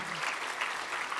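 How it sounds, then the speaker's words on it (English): Brief burst of audience applause at a statewide equity conference plenary session, a dense wash of clapping from a crowd, steady and moderately loud for about a second. "Let's do a round of applause on that."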